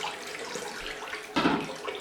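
Cold tap water runs into a sink for a post-shave rinse, a steady hiss that swells louder and closer partway through.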